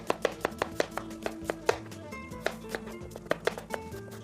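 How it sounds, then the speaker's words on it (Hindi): A knife slices and then roughly chops a medium onion on a board. The sharp, evenly spaced strikes come close and clear, about four or five per second, with no talk. "1 अदद दरमियानी प्याज को हमने स्लाइस करना है और उसके बाद रफली सा इसको हम छोटा यानी कि चॉप कर लेंगे।"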